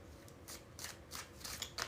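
Tarot cards being shuffled in quick, papery bursts, four or five riffling swishes spaced about half a second apart, soft and close with no talking.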